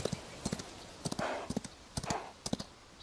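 Horse hooves clip-clop in the Chrono Odyssey video game, an uneven run of crisp close hoofbeats with brief pauses, alongside light clicking that may be keyboard input.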